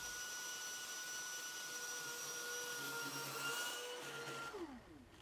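A Sun Joe AJ798E electric corded dethatcher scarifier runs steadily on a lawn, a continuous whining motor drone with tonal hum that winds down near the end.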